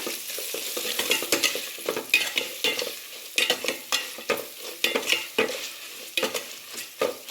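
Cumin, pepper and garlic stirred in hot oil in a pan, a close run of rhythmic scraping spoon strokes over a steady sizzle with no voices.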